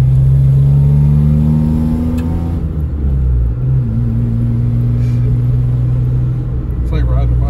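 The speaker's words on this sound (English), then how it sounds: "it definitely won't downshift in the first unless you rev bomb the fuck out of it" A Geo Metro's small engine revs hard as the car downshifts, a loud mid-pitched drone whose pitch climbs, drops and climbs again while people talk over it inside the car.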